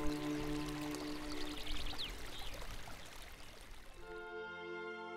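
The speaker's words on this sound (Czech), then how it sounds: "tato voda z dřevěného korítka doteče až do moře Černého" Water pours steadily from a wooden trough in a continuous splashing stream, close and alone, with a faint tonal hum underneath.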